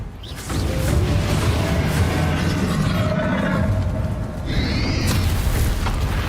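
Confringo blasting-spell explosions in the video game Hogwarts Legacy, a sustained heavy rumbling boom with bursts and crackles, loud and close, and a brief whooshing burst near the end.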